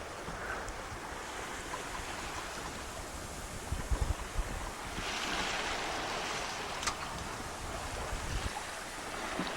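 A sailboat moving at a fairly quick pace over calm sea with small waves, a steady wash of water and wind noise against the microphone, a few soft knocks and a brief rise of rushing water midway, with no voices.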